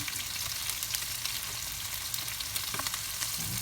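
Butter sizzling in a frying pan with fresh line-caught fish, giving a dense, continuous crackling hiss with small pops throughout, close and fairly loud with nobody talking.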